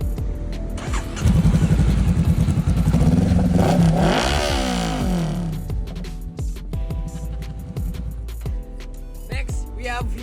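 Honda CB 500R motorcycle engine starting up and being revved outdoors, loud and close, climbing sharply in pitch then settling into a lumpy idle with occasional blips.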